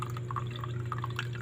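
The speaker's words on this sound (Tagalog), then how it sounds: "Tingnan na naman guys ang tulo ng tubig namin." Water drips and trickles weakly from a tap in a quiet spot before dawn, a thin, uneven flow of faint, irregular droplets over a low steady hum.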